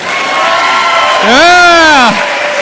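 A sales event audience breaks into loud cheering and whoops, one rising and falling shouted voice dominating above a steady wash of clapping and crowd noise.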